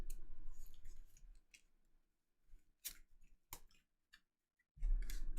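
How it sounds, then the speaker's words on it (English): A deck of cards for a deck-building board game is shuffled by hand in quick riffling bursts and soft clicks, with quiet pauses between them and a louder burst at the end. "Gotta get a shuffle here."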